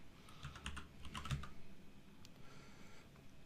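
Light, quiet typing on a computer keyboard, a quick run of key taps followed by a few scattered presses, close and alone.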